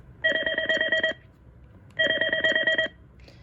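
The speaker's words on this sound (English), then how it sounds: "Hate to have that ringtone. Pulse 1." Cisco desk phone ringtone named Pulse 1: two identical bursts of rapid, bright electronic warbling, each lasting about a second, separated by a short gap and heard alone at close range.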